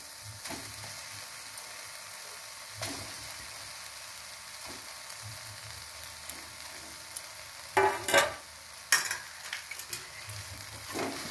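Potato pieces sizzle and fry in a pan while being stirred, with a steady hiss broken by occasional louder scrapes and clacks of the spatula against the pan, close and without talk.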